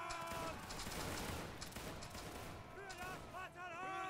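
A musket volley fires in a Napoleonic-era battle game, a dense crackling burst of many shots at once that rolls out over several seconds, followed by faint whistling battlefield sounds.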